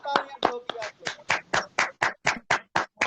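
A small group claps in a steady, evenly spaced rhythm, about a dozen distinct loud claps close by, with a voice heard over the first few.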